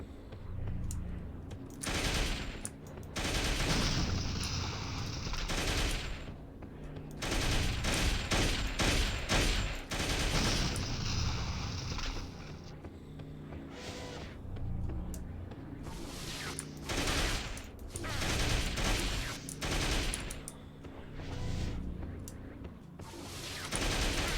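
Several weapons fire at once in the MDK2 video game, a dense, continuous barrage of rapid shots and bursts filling the whole stretch, loud and near, with some talk mixed in.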